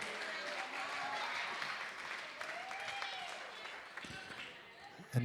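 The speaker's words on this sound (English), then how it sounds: "a big round of applause for Peter" Wedding guests applaud for Peter at a reception, a steady, moderately distant wash of clapping with crowd murmur throughout.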